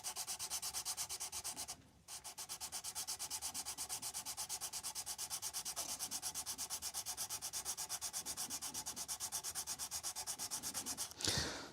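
Hand sanding with 150-grit sandpaper on a guitar during a Vega-Trem tremolo and Graph-Tech nut install: a steady, rapid back-and-forth scratching rasp that runs nearly continuously, with a brief pause near the two-second mark and a louder stroke at the end.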